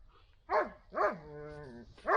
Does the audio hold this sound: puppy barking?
yes